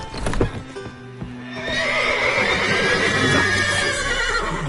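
Horses in the Witcher 3 video game whinny loudly and up close, one drawn-out neigh following a brief thud and some shuffling, with no talking.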